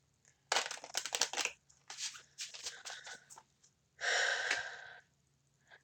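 Tarot cards shuffled by hand in several quick, papery riffling bursts, close and fairly quiet, separated by short pauses, with a longer, denser burst near the end.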